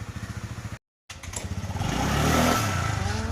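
A 2014 motorcycle engine idles with a steady, rapid close putter, briefly cuts out, then picks up and runs rougher and louder.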